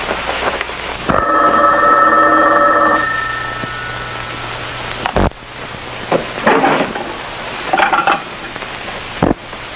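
An old-fashioned telephone bell rings in a steady metallic trill for about two seconds, then gives way to clunks, rustles and a faint hiss of background noise.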